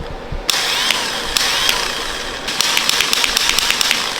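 The stock starter motor of a 1000HP 2JZ engine cranks in rapid, rhythmic clicking bursts, loud and close, with a pause between two cranking attempts.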